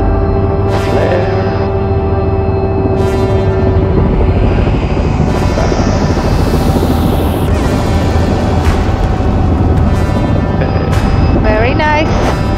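Robinson R66 turbine helicopter touching down after an autorotation, a steady loud rotor and engine drone with whine filling the cabin as the throttle opens late and the craft flares, voices talking over it throughout.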